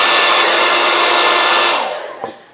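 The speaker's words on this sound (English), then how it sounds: "So back to that hair dryer." A hair dryer blows loudly and steadily at close range on high, heating a Les Paul guitar nut for removal, then winds down and cuts off near the end.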